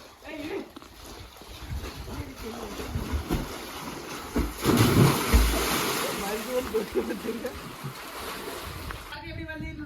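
Excited voices shout outdoors at a village well, with a heavy splash of someone jumping into the well water midway and churning water afterward.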